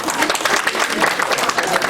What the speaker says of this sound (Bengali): একটা হাততালি হবে।